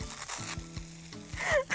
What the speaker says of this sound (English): When the wok is nice and hot, cook the bacon.